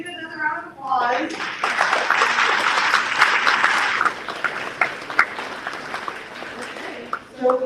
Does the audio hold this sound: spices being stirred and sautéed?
no